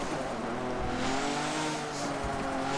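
Formula 1 race car roaring loudly as it accelerates through high revs then brakes hard, a continuous near engine howl with shifting pitch and brief tire squeal.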